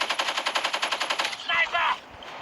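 RPD machine gun with a cooling compressor barrel firing in Call of Duty Mobile, a rapid, evenly spaced burst of about fifteen shots, then a brief harsh noise and quiet game ambience.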